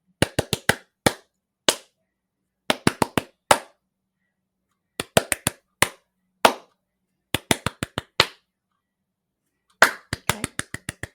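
Bare hands clapping out the Hawaii Five-0 theme rhythm: sharp, close, dry claps in quick syncopated groups separated by short pauses.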